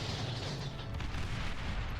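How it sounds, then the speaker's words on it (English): Dense rumbling explosions from bombing runs across a video game map, a continuous low heavy barrage with no pause and no voices. "explosions across the map"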